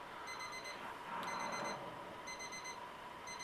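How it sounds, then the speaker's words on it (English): An electronic alarm beeps in repeated short bursts of high tones, with a pause between groups, steady and moderately loud against quiet room noise. "there is something in this room that is beeping."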